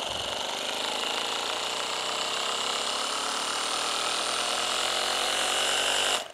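A Bosch GBH 18V-26 cordless SDS Plus hammer drill soft-starts, its whine rising gradually in pitch and steadying into a loud continuous drone before cutting off abruptly.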